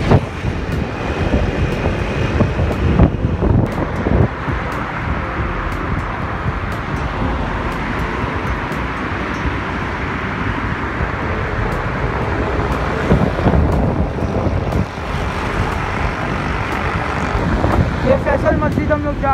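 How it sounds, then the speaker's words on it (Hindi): Cool wind roars steadily against the microphone during a ride along clear Islamabad roads toward Faisal Mosque. The loud, continuous buffeting mixes with the rumble of passing traffic. "ठंडी ठंडी हवा चल रही है।"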